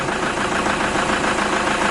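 Pickup truck engine idling while parked with a steering fault: a steady, close, mid-pitched engine rumble with a faint knocking texture, continuous throughout and with no talk.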